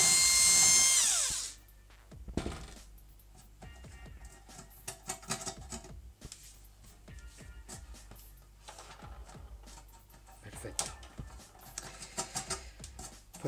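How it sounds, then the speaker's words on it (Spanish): A power drill whirs in repeated bursts, starting and stopping as it bores a hole in an Xbox One, fairly close, with brief pauses and clattering between runs. "Entonces eso lo podemos hacer con un taladro."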